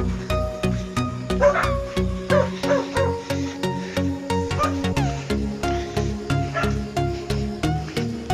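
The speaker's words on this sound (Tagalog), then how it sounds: "Daming aso." Several dogs bark along a rural road near a waterfall trail in Rodriguez, Rizal, with repeated yaps blending into a steady rhythmic background of other sounds.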